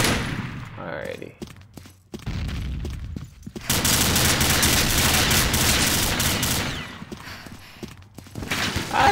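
Gunfire from Combat Arms on the Ghost Town map crackles in dense automatic bursts, building to a sustained loud barrage through the middle with sparser shots around it, and a player's voice cuts in at times.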